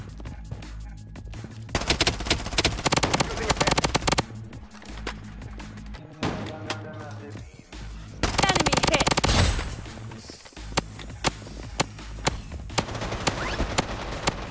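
Repeated bursts of automatic gunfire in the shooter game Blood Strike, loud and close, with rapid rattling volleys separated by short pauses and scattered single shots toward the end.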